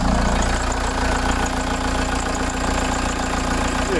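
A VW T3 van with a swapped-in TDI diesel idles steadily up close, a continuous, even clatter with no voices over it.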